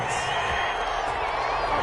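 Stadium crowd in a PS4 football game booing after a penalty flag on third down, a dense sustained roar of jeering voices at moderate level throughout.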